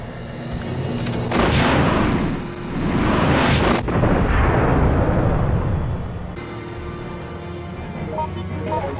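Rocket launcher blasts strike Thanatos in Resident Evil Outbreak, loud booming explosions with rumbling roar, a first burst swelling and fading, then a second heavy blast trailing into sustained low rumble and debris noise.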